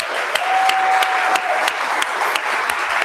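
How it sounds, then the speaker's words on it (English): A conference audience breaks into sustained applause, dense and steady throughout with a few sharper claps standing out and a brief thin whistle-like tone partway through. "so big round of applause for Justin"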